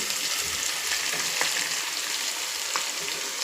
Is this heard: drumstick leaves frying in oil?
yes